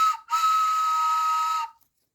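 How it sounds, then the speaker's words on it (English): A toy train whistle blown twice, a brief toot followed by a longer steady shrill tone of about a second and a half, loud and close with no other sound. "I bought a train whistle."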